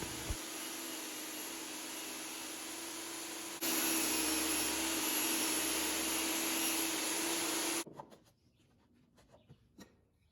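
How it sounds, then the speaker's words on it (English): A table saw rips through plywood sheets, cutting cabinet and false-front panels to size for a kitchen island; a loud, steady whine runs for about eight seconds, rising partway through, then stops and leaves a quiet room with a few light knocks. "I'm back over to the table saw with my plywood to cut down my false front plywood pieces and cabinet plywood pieces to the size that I need."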